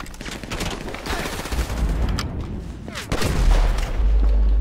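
Rapid bursts of gunfire crackle and boom continuously, with heavy low impacts and dense overlapping shots, loud and close, from a battle in Grand Theft Auto V on PC.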